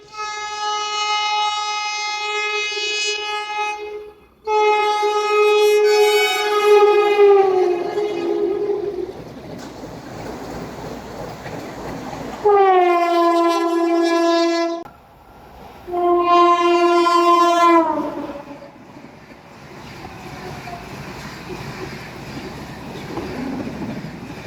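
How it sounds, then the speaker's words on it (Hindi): A Vande Bharat Express train arriving at a station platform sounds several loud, close multi-tone horn blasts, with rumbling rail noise between and after them. "सामने वंदे भारत एक्सप्रेस आ चुकी है।"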